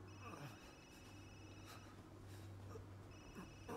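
Phone ringing in the video game Resident Evil Village, a quiet repeating electronic ring in two pulses over a faint low hum and ambient background, with no talking.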